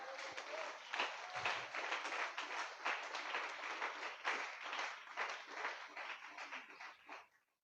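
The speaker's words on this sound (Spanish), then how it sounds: "Denle un aplauso al Señor." A church congregation claps together in praise, a fairly quiet but steady burst of many hands that continues for several seconds and then fades out abruptly.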